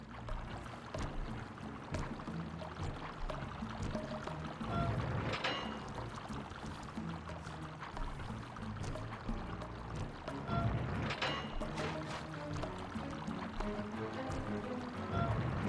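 Water rushes steadily through valves in the video game Sly 2: Band of Thieves, a continuous gushing flow with periodic louder surges and splashes, over faint background game music.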